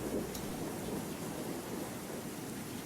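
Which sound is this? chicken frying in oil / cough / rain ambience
rain ambience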